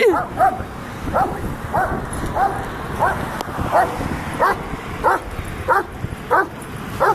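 A dog chases cyclists on a rural road and barks steadily, about a dozen sharp yips and barks coming at an even rhythm, loud and close, over wind and road noise.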